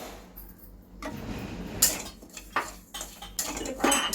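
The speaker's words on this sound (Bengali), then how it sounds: "এবার এই শ্যামা চালগুলোকেও আমি ভেজে নিচ্ছি" Shyama rice dry-roasting in a pan without oil, stirred with a metal spoon. A quiet start gives way to scraping and rattling, then sharp clinks against the pan at uneven intervals.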